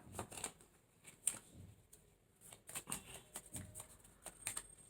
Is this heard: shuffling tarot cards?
yes